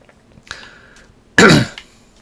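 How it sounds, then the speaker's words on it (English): A single man's cough or throat-clearing, short and harsh, comes close to the microphone after a softer throaty rasp, with no talk around it. "Still going to go over this cough."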